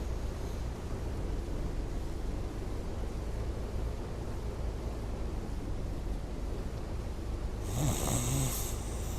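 A person snoring in a mattress advert, with a steady, raspy breathing drone heard close and continuous, ending in a brief, brighter sound near the finish.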